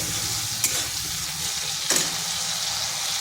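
Potato and pointed gourd curry sautéing in a pan, a steady close sizzle and fry with two brief scraping stirs of a spatula, no voices.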